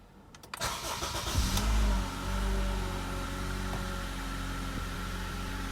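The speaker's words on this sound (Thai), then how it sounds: "ดูว่าเครื่องยนต์จะติดหรือไม่ติดนะครับ" A Honda Accord engine cranks briefly after a fuel filter replacement, catches and starts, then settles into a steady idle nearby.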